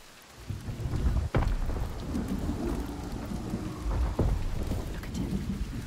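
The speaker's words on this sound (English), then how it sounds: "The constant storm." A constant storm in the video game Senua's Saga: Hellblade II brings heavy, steady rain with rolling thunder and a couple of sharp cracks. It is loud and continuous, with no voices.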